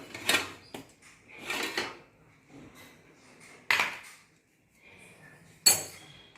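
Steel plates and utensils clink and clatter as a dish of corn dhokla is lifted out of a steamer in a home kitchen, several sharp knocks and scrapes spaced apart with quiet gaps between them.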